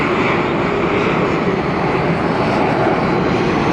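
Wide-body jet airliner taking off from Atlanta Hartsfield, its engines spooling up into a loud, steady, broadband roar that fills the whole stretch without pause.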